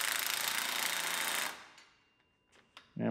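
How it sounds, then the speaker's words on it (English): A power tool, likely an impact wrench, tightens the bottom bolt on a truck shock during a rollover Silverado rebuild, running in a loud continuous rattling burst for about a second and a half before stopping, followed by a few faint clanks. "Tighten up the bottom bolt."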